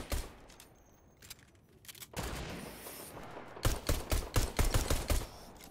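A heavy shotgun fires in the video game Fortnite. After a quieter stretch with scattered sharp cracks, a dense burst of rapid, loud blasts crowds together near the end.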